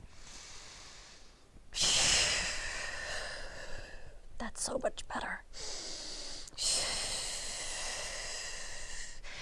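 Audible breaths accompany a Pilates exercise on a Stott Pilates chair, with bursts of airy exhalation interrupted by a short pause in the middle. Someone speaks briefly over the breathing.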